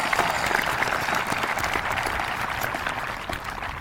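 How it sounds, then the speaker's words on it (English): Sustained applause from a graduation audience at a 2024 high school ceremony, dense steady clapping from a large crowd filling the whole moment at an even loudness. "how about one more round of applause for the 3 outstanding addresses?"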